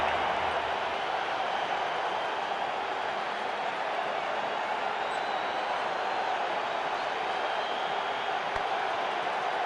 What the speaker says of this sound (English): The crowd's gone berserk.